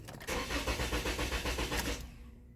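A Toyota Camry with an immobilizer and communication faults cranks steadily without catching, its starter churning in an even rapid rhythm for about two seconds before going quiet; no talk.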